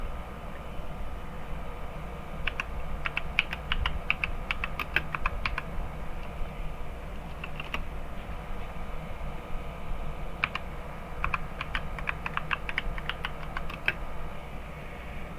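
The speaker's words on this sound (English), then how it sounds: "And I'm typing away here." Rapid computer keyboard typing comes in irregular bursts of crisp clicks over a steady low room hum, fairly quiet and with no talking.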